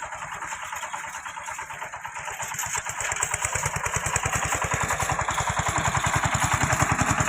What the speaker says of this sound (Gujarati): કારણ કે ટ્રેક્ટર હવે એક ફેર છેલ્લી ફેર હાલે એમ છે આમાં